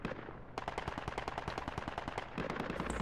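Rapid machine-gun and rifle fire from the military shooter game Project Reality 2, loud sharp bursts in quick succession, with a brief lull before a final volley.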